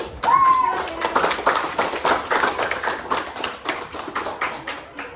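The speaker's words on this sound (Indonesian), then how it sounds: "beri dulu aplaus untuk" An audience claps in a classroom-like gathering, with distinct hand claps pulsing in a fairly rhythmic burst. A voice and a short high call sound near the start, and the clapping carries on to the end.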